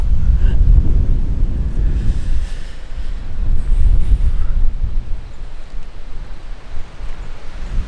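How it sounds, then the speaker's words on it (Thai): Strong wind gusts across an open campsite, roaring and buffeting right at the microphone in a loud, continuous rumble that eases slightly toward the end. No one speaks. "จะปิวไปกับลมได้เลยลมแรง"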